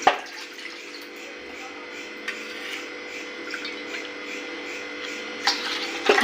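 Water pours steadily into a pot, a continuous hollow splashing stream with a few knocks at the start and end.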